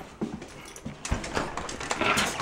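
A dog whimpers and pants nearby in short, soft bursts on a morning walk, with faint footsteps and outdoor noise behind.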